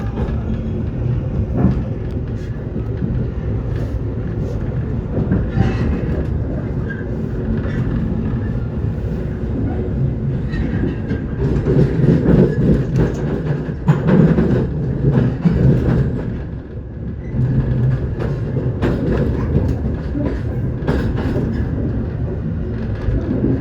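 A train runs straight through Cikampek station in Indonesia where lines from Purwakarta, Cimahi and Bandung converge, giving a steady, close rumble with rattling wheel noise that swells in the middle and continues for the whole stretch.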